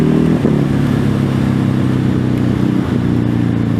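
Ducati Hypermotard 950 SP motorcycle being ridden on a mid-November day, a loud, close engine drone with a steady pulsing note and slight rises in revs.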